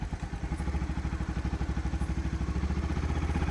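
A motorcycle engine runs close by during a ride, with a steady, rapid thrumming pulse and no talk.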